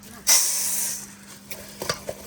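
Fish frying in a pan for a Bengali winter meal of khud rice with khoira and tengra fish, a loud burst of sizzling that starts suddenly and then eases off, followed by a few faint clinks and stirring sounds.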